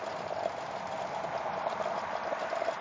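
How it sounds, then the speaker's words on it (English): Water boiling hard in a glass jar over a campfire, a continuous dense bubbling hiss at low volume with no voices. "It's bubbling. It's boiling like crazy."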